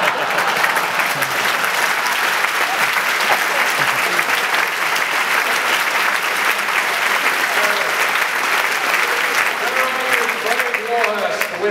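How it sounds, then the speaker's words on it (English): Audience applause fills the whole stretch, a dense, steady wash of clapping from a crowd at a live event, continuous and unbroken, fading slightly near the end. "Wherever he is, Craig, give him a round of applause."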